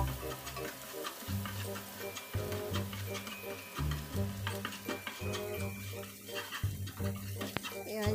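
Garlic and onion sautéed in a pan for a kangkong and tofu dish, a faint sizzle and stirring clinks heard close, partly under steady tonal background sound.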